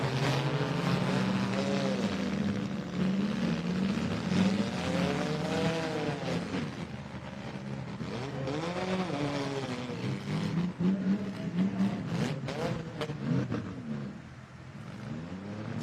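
A compact car with flat front tires revs hard in a demolition derby heat, its engine pitch repeatedly climbing and falling in strained bursts against constant arena noise.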